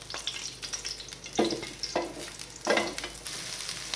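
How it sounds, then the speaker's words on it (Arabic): Onions sauté in a frying pan with a steady close sizzle, broken by several louder scraping bursts as a utensil stirs them. "كده بشوح البصل اهو"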